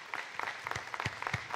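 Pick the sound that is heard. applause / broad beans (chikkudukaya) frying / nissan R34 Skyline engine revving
applause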